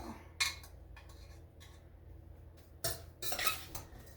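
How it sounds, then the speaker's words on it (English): Cut apples are stirred with a utensil in a pan of brown sugar and butter, giving a few distinct metallic scrapes and clinks separated by quieter gaps. "we're going to be putting our cut apples into the brown sugar and butter. And then we're going to mix this up and let it cook"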